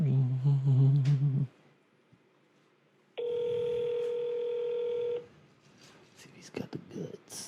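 A phone call on speakerphone: a steady electronic ringback tone sounds for about two seconds, with soft voices talking and whispering before and after it.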